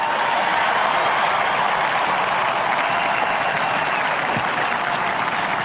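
A large crowd at Donald Trump's presidential inauguration applauds steadily and loudly, a dense, sustained wash of clapping with no break.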